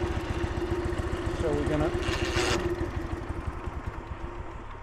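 A 1976 Dnepr MT 9 motorcycle engine idling close by with a steady, fast thumping pulse, loud throughout as someone talks briefly over it.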